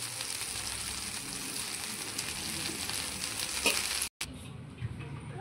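Tuna fish frying on a tawa, Mangalorean style, a steady hissing sizzle close by with a brief scrape, then a sudden cut to silence before the sizzle resumes slightly quieter.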